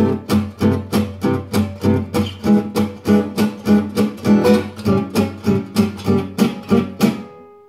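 A guitar strums an A dominant seventh flat nine chord in a steady, even gypsy jazz rhythm, about a dozen crisp rhythmic strokes played alone.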